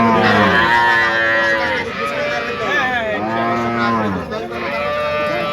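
A large black-and-white dairy cow moos loudly and close by in several long, drawn-out lowing calls, with faint background noise between them.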